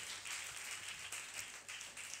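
Applause from a church congregation at a Christmas service, a soft, steady patter of many hands clapping at a distance, faint and continuous without a break.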